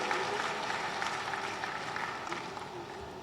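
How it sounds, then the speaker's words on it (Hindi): An audience at a hospital inauguration event claps for the guests on stage. The applause is faint and distant, a soft, steady patter of many hands. "जोरदार ताली बजाओ सारे मंच अतिथियों के लिए।"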